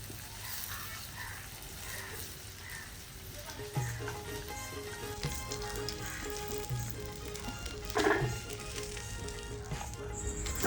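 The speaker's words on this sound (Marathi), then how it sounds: "आता आपण हे उरलेले बागडे सुद्धा तळून घेऊया" Bangda (mackerel) fish frying in a pan, a steady low sizzle running throughout with a few brief clatters and a louder burst near the end.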